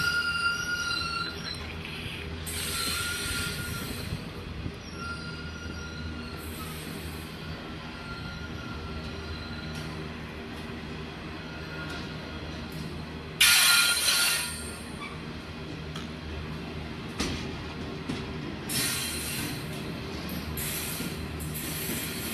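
Several model railway locomotives, seven running at once, make a steady close rumble and clatter on the layout, with brief louder bursts of wheel noise partway through and no talk.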